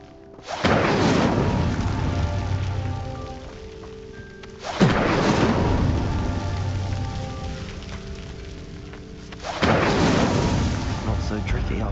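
Three Incendio fire spells in Hogwarts Legacy, each a sudden loud whooshing burst that settles into a roaring, crackling blaze as a pyre ignites, spaced about four seconds apart.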